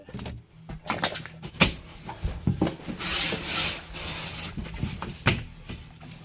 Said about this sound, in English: Rasp one side.